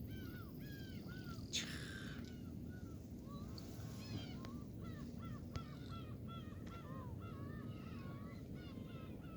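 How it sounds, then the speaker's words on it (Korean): Many migratory birds call at once at a tidal mudflat seawall at dusk, a busy chorus of honking and cawing cries overlapping at a moderate distance over a low background hum. "철새도 울음소리가 많이 나죠"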